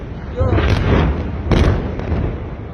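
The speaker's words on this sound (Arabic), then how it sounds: "ضربة جديدة ضربة جديدة ضربة جديدة" A new strike near a fuel station sounds as two heavy, loud booms about a second apart, each with a rumbling tail, over continuous roaring noise and excited voices.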